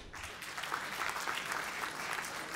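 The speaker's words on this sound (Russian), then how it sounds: "Эти грустные, но мудрые аплодисменты." A stand-up comedy crowd applauds in a steady, dense wash of clapping that holds at an even level from start to finish.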